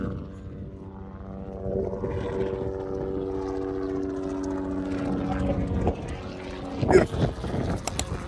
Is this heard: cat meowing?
no